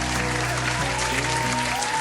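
Cartoon fish clapping their fins, a steady two-second burst of applause over a light musical background with a few tonal notes.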